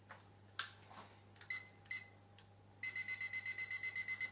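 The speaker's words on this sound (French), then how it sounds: "Je vais mettre le minuteur." A kitchen timer being set while baking mini muffins, with a few scattered clicks and short beeps, then a rapid regular run of high electronic beeps near the end, close but quiet over a low hum.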